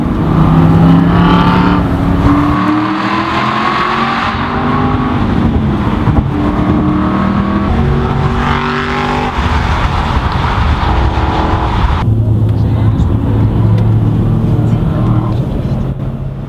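An Aston Martin V8 Vantage Roadster engine, roof open, roars and revs continuously, its pitch rising and falling as it accelerates, with a steady rumble of road noise underneath.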